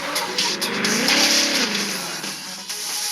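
A video game car engine whining and shifting pitch as it drives in reverse, with tire squeal and skidding noise, loud and continuous, no talking.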